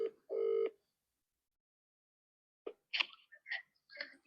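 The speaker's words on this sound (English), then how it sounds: "He's just getting a phone call." A telephone beeps once, then a quick run of short dialing tones and clicks follows after a pause, faint and close with no talking.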